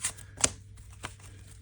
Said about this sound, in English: Once again, we shuffle our deck.